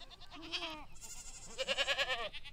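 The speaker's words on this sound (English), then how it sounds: "You can see goats moving right through there." Goats bleating in a pasture, several wavering, nasal calls in two bursts, one shorter cry followed by a louder, longer chorus of overlapping bleats at moderate distance.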